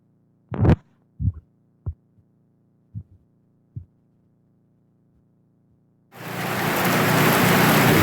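Heavy rain in Rajanna Sircilla district, first several deep thuds like thunder or drops hitting a surface, then a sudden loud, steady broadband rush of downpour filling the last two seconds.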